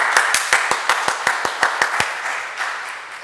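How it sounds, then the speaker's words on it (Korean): Rhythmic group clapping at a church confirmation class, about a dozen sharp, evenly spaced claps in unison that fade out near the end. "박수 한번 보내죠, 박수."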